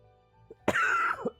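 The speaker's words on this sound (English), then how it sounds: "You're coughing." A person gives one close, harsh cough after a moment of quiet, followed by a short throat-clearing rasp.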